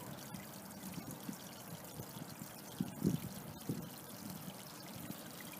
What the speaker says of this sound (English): I'm going to actually fill this pond up to about this level.